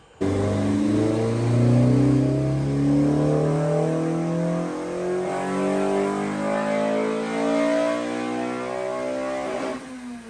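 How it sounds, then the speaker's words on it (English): A loud Honda B16A engine with CTR pistons and ITR cam revs steadily upward on a dyno for several seconds, rising in pitch and holding a strong droning roar before cutting off near the end. "All right, now let's do a few more runs."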